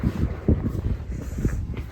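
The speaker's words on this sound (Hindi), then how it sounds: "साथ ही साथ में बहुत तेज़ हवा भी चल रही है" Strong wind gusts buffet the microphone in uneven low rumbling bursts, loud and close, with no one speaking.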